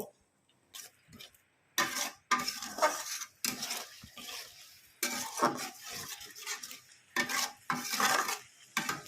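Spices with onion and garlic being stir-fried in a pan for a rohu fish curry with eggplant, heard as bursts of scraping and clattering spoon strokes against the pan separated by short quiet gaps, close and with no talk.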